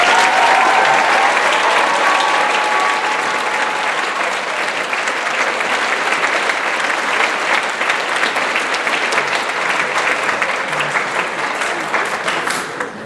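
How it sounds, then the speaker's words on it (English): A large graduation audience applauds faculty and staff at a college commencement ceremony, loud sustained clapping filling a big hall for over twelve seconds without letting up. "Let's give them all a round of applause."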